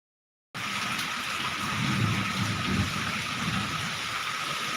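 Heavy rain driven by wind pours down in a dense, steady roar that starts abruptly after a brief silence and holds loud and unbroken, with no voices.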